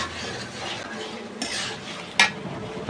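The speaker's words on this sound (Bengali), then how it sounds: "এখন ভালো করে কষিয়ে নিয়ে এবার পটলগুলো দেব। আর একটু কষাই নেই।" Chicken curry masala with pointed gourd is stir-fried in a pan: a spatula scrapes and stirs over a low sizzle, with a sharp metallic clink near the end.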